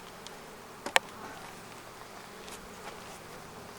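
A dense, continuous hum of many honeybees buzzing nearby at an open hive, with one brief sharp click standing out early on.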